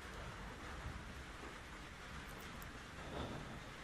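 Steady rain hisses evenly throughout, a dense, soft wash of falling drops with no voices.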